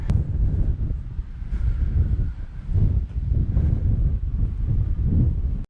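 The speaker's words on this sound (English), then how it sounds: "So windy up here." Strong wind buffets the microphone in continuous gusts along an exposed stretch of Hadrian's Wall near the Solway coast, a loud low rumble with no talking.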